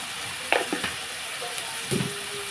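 Tomato pieces sizzle in a pan of fried onions, a soft continuous frying hiss broken by a few brief scraping stirs, fairly quiet and close, with nobody talking.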